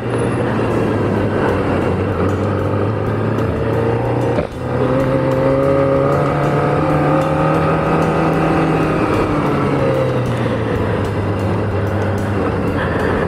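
An Aprilia RS 660 motorcycle rides through congested traffic, its engine drone steady and close with shifting pitch, one brief dip midway, surrounded by passing vehicle noise.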